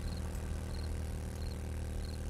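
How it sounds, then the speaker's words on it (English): A drone in the video game 7 Days To Die hums with a steady droning, propeller-like whir, continuous and fairly close throughout, with no talking over it. "No, there it is, the drone's right behind me."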